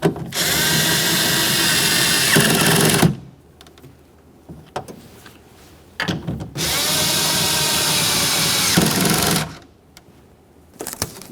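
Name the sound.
power tool driving in 10mm window regulator mounting bolts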